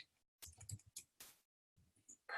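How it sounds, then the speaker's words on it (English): Keys on a computer keyboard are tapped in short, quiet bursts of clicks separated by brief pauses, close and faint, with no talking. "I'm just typing out my email again"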